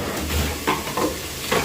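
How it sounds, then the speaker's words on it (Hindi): Dal is tempered with tadka in a home kitchen: faint sizzling with a few soft stirring scrapes, heard close and alone. "दाल को तड़का लगाते हुए"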